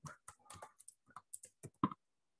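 Rapid clicking of a computer keyboard while typing, irregular bursts of keystrokes close and fairly quiet, then stopping.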